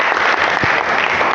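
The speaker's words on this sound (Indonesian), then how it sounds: "Tepuk tangan dulu untuk Gabriel." A Catholic religious education class in Semarang claps together for a classmate, a close, loud burst of brisk hand clapping that stays dense and continuous for the short stretch.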